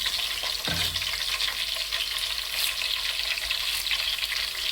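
Onions, garlic and four dried red chillies fry in hot oil with a loud, continuous close sizzle, broken early on by a single knock of a stirring utensil against the pan; no talking.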